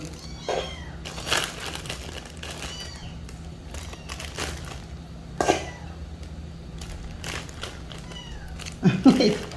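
A cat meows a few times, short and fairly close, mixed in with a person talking and some rustling around a home.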